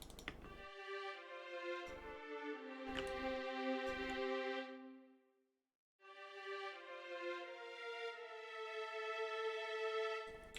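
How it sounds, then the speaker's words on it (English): A looping electronic beat of low drum hits under a sustained violin line, a synth pad and bass, which cuts out briefly before the sustained tones resume. "So it's the drums, the violin, the pad, and the bass. And so it sounds like this."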